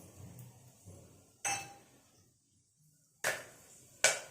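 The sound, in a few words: whole spices dropped into hot oil in a pan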